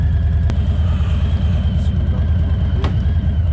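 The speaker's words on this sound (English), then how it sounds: "I have the bike on first gear, and I'm carefully walking it up the ramp by slowly releasing the clutch" A Harley motorcycle engine in first gear, idling as the bike eases up a ramp: a loud, close, steady low rumble with a couple of faint clicks.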